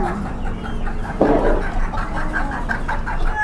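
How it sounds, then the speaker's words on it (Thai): Silkie chickens clucking in a market cage, a cluster of soft repeated clucks and one louder squawk close by amid steady background murmur. "ชุดนี้ก็จะเป็นไก่ซิลกี้นะครับ"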